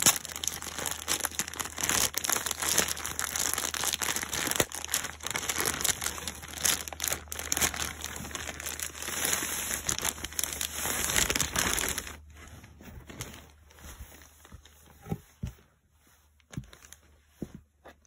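Plastic packaging crinkles and crushes steadily and close up while IKEA purchases are unboxed, a dense rustling that runs for about twelve seconds and then turns to sparse, quieter handling sounds.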